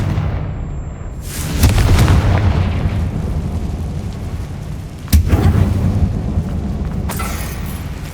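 Confringo spell blasts in Hogwarts Legacy inside a closed mine, two loud booming explosions several seconds apart, each rolling off into a rumbling decay.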